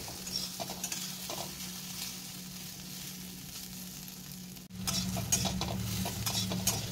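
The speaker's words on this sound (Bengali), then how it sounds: "সয়াবিনগুলো আমি বেশ কিছুক্ষণ ধরে ভালো করে ভেজে নিচ্ছি।" Soybean chunks fry in oil in a pan, giving a soft, continuous sizzle with light scraping stirs, a short break, then a louder crackling resumption; no voices are heard.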